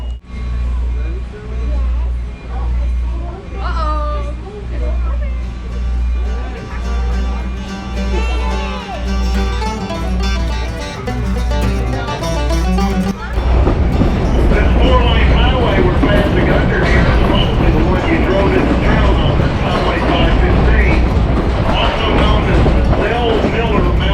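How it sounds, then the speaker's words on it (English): Blue Ridge Scenic Railway excursion train pulling away at Copperhill, Tennessee: a steady low rumble with regular rhythmic thumps grows into a loud, dense clatter of rolling wagons, heard from inside a car with voices and announcements over it. "The train is about to move."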